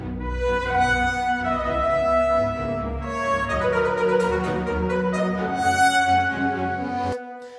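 Virtual orchestra trumpets with a retro 90s tone, played from a keyswitch articulation track, sounding as a full sustained brass passage of layered held and shifting notes for about seven seconds before stopping abruptly.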